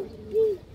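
A single short, soft coo from a pigeon, one of several fancy breeds such as red and black muscled tails, Gola and high flyers, close and clear with no talk.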